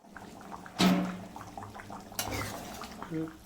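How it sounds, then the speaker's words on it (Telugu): A plate set over a pan of chicken curry, a sharp ceramic-on-metal clatter followed by a second lighter clink, close and brief against a quiet kitchen background. "ఇప్పుడు ప్లేట్ అయితే మూసి పెట్టేసి ఒక 5 మినిట్స్ మీడియం ఫ్లేమ్లో పెట్టేసి బాగా మగ్గనిద్దామండి"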